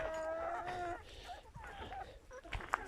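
Roosters crow and cluck nearby on a free-range poultry farm, one drawn-out crow followed by shorter calls from several birds, against faint farmyard background noise.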